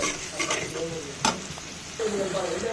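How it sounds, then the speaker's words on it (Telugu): Drumstick tamarind curry base fried with turmeric and salt in a pan, a continuous close sizzle punctuated by stirring scrapes and a sharp clink midway, frying swelling louder toward the end. "ఇలా వచ్చేసి మనము పసుపు, ఉప్పు వేసుకొని బాగా పచ్చివాసన పోయేంత వరకు బాగా వేపుకోవాలి"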